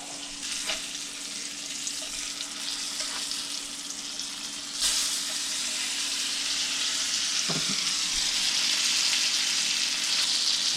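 Speckled trout sizzles in butter in a cast iron pan, a steady close frying hiss that swells louder midway with a few soft pops and a brief utensil scrape near the end, no talking.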